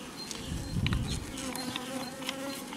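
A dense, close swarm of honeybees hums steadily at a hive, with individual buzzes rising and fading over the constant drone.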